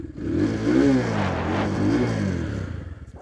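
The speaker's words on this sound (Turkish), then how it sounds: "Kapalı egzoz motorda şöyle bir ses çıkıyor." A Falcon Freedom 250 cruiser motorcycle with a closed exhaust revs up and down a few times, a throaty, muffled rumble rising and falling in pitch, close by.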